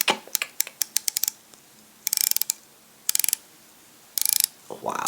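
Rotating bezel on a Citizen Promaster NY0040 dive watch clicking in quick bursts of crisp ratcheting clicks, several short runs separated by pauses, close and fairly faint.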